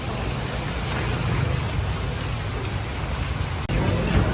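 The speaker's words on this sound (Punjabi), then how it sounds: "ਮੈਂ ਪਹਿਲਾ ਮੀਂਹ ਵੇਖਿਆ ਪੰਜਾਬ ਦਾ ਕਾਫੀ ਟਾਈਮ ਬਾਅਦ" Steady rain pours down in Punjab with a dense, even hiss, close and continuous throughout.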